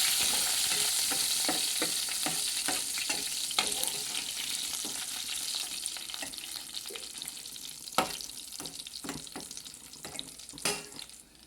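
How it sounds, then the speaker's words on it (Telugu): Onions, shallots and curry leaves fry in a steady sizzle throughout, broken by repeated scraping and clinking as a spoon stirs the pan, with no talking. "దీంట్లోకి కరివేపాకు, ఉల్లిపాయలు, చిన్నుల్లిపాయ పోపు బాగా ఆగనివ్వాలి."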